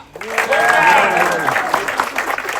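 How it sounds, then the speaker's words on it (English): Crowd applause aboard the Amadeus cruise ship during a crew introduction, building from a quiet start into continuous clapping, with a speaking voice over the first half. "Big applause Putra."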